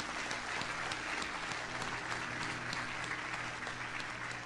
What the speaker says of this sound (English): yes, you should applaud that